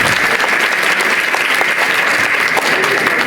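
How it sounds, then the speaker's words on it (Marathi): A seated audience breaks into dense, sustained applause for MLA Kashinath Date at a public felicitation event, many hands clapping loudly and evenly throughout. "सर्वांनी एकदा जोराच्या टाळ्या वाजवा आणि त्यांचं अभिनंदन करा"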